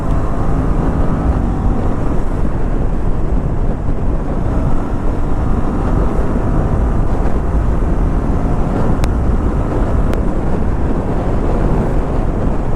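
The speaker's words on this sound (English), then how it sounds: "Lovely motorcycle." An Aprilia RS 457 motorcycle riding along the Karimnagar highway, a steady loud engine drone mixed with heavy wind rush at the microphone, continuous for the whole stretch with no talking.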